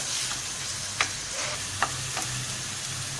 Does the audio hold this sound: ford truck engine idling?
no